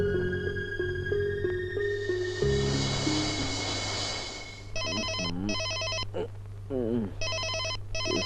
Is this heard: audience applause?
no